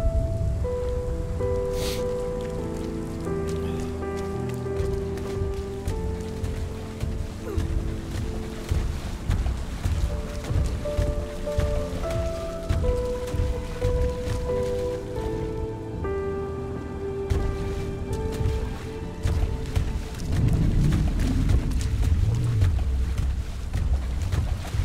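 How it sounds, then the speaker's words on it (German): Steady rain falling in the video game RiME, a constant hiss of drops under layered ambient game music with soft sustained tones. "Ich meine, das regnet ja immer zu."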